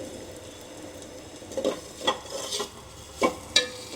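Leftover roti curry gets stirred in a pan: a handful of short spatula scrapes and taps over a faint sizzle, close and fairly quiet.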